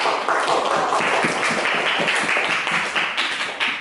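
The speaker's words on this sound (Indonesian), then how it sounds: "Tepuk tangan buat kelompok 2." A high-school social studies class applauds a student group, a steady, dense patter of many hands clapping close by for several seconds with no break.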